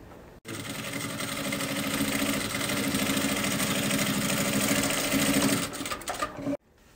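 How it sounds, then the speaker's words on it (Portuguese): A sewing machine stitches the fabric lining of a Bible cover in one steady, loud, continuous run lasting several seconds, then stops abruptly. "A gente passa uma costurinha com o pezinho de máquina."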